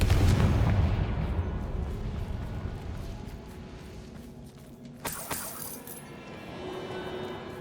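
A Confringo blasting spell explodes in Hogwarts Legacy: a heavy, rumbling boom opens, fades into low ambience, then a sharper crack bursts out before the scene settles.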